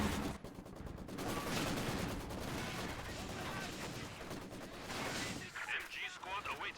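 Dense gunfire and artillery-like bursts in the Company of Heroes 2 battle, a continuous loud barrage of shots and blasts with game voice lines over it, easing near the end into scattered cracks.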